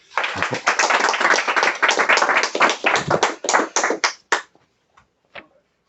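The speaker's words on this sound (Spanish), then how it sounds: "Un aplauso." Audience applause at a Burgos gathering, a dense burst of many hands clapping loudly that thins into a few scattered claps and dies away near the end.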